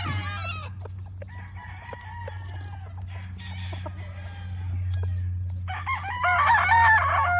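A three-way cross gamefowl rooster with Boston Claret lineage crows at a gamefowl farm, while other roosters crow and cluck nearby over a steady low hum.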